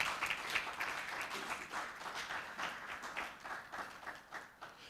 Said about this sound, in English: Let's clap for these people.